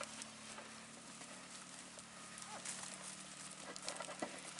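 Goats in their pen eating evening alfalfa, with faint scattered rustling, soft crunching and light hoof shuffles over a steady quiet background.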